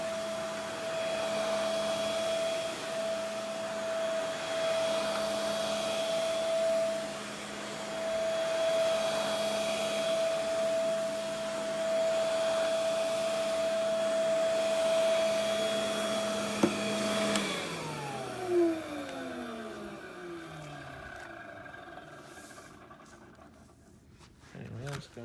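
Early-model Rainbow D3a canister vacuum running steadily with its rug attachment fitted, a constant motor whine that then winds down toward the end as the machine is switched off.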